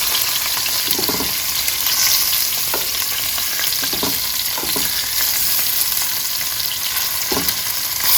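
Pieces of oxtail fry in hot oil with a loud, continuous close sizzle and a few soft stirring knocks, and no talking.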